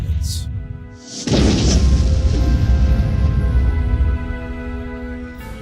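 A supernova explosion effect: a deep, heavy boom hits early and swells into a loud, sustained roaring rumble that holds for several seconds before easing off.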